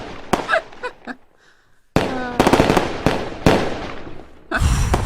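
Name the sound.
fireworks sound effect on radio show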